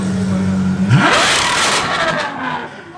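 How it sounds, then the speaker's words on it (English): A Ferrari 812 Superfast V12 revs hard and loud up close, rising sharply from a steady idle into a roaring, sustained high-rpm scream that slowly eases off. "what may be the loudest 812 Superfast I've ever heard in my entire life"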